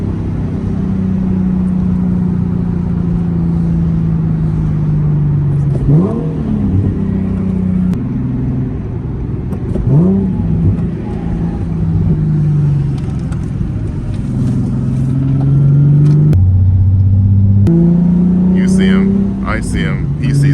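A Nissan 370Z Nismo engine drones loudly from inside the car during acceleration pulls in traffic, the revs climbing steadily and dropping at several gear shifts, with a constant road rumble underneath.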